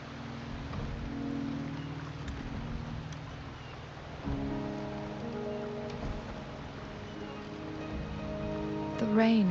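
Steady rain patter in the video game Wuthering Waves fills the background, with low rumbling tones underneath and a brief rising tone near the end.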